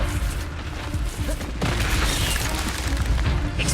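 Levioso levitation spell cast in the video game Hogwarts Legacy, a deep booming magical burst with crackling layers, loud and close over continuous game ambience, with a sharp swell about halfway through.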